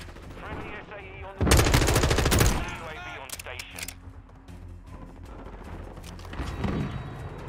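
Rapid automatic gunfire from a firefight in Call of Duty: Modern Warfare 2, a loud sustained burst of about a second followed by scattered shots and game effects, with a player talking over the action.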